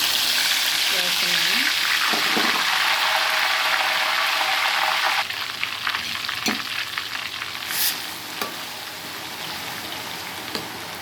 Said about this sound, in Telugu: ఇప్పుడు ఈ ఆయిల్లో అల్లం వెల్లుల్లి పేస్ట్ వేస్తాను